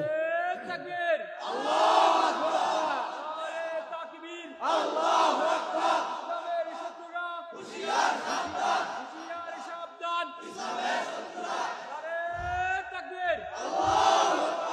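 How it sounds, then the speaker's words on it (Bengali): A large crowd at an open-air Islamic sermon gathering in Chandpur chants Allahu Akbar in response to a takbir call, with several loud, rhythmic bursts of massed voices separated by short pauses. "একজন নারায় তাকবীর দেন।"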